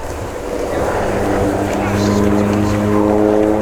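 A Pilatus PC-7 training aircraft of the Swiss Air Force flying an aerobatic display at RIAT 2022 gives a steady propeller drone with a rising engine tone, sustained and fairly loud, while an announcer talks over it.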